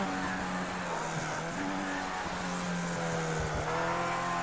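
A Formula A race car spins out in the racing game Project Cars 2, its engine droning steadily with tire squeal as the revs shift near the end.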